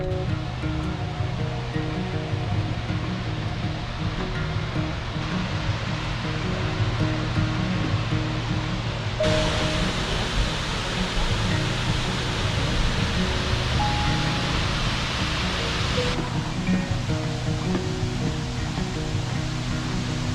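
Brandywine Falls in Cuyahoga Valley National Park roars steadily from the upper deck near the top of the waterfall, a dense, unbroken rush of water that stays loud and constant throughout with no voices.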